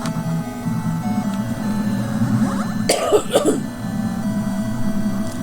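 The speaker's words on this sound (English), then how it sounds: "I keep coughing." A short burst of coughing, two or three harsh coughs close to the microphone over a steady low background hum.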